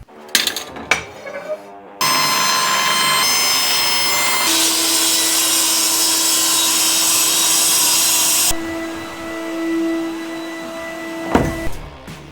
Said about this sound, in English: Next job is to cut out the plywood that's going to be bolted to that, which will take the bed frame.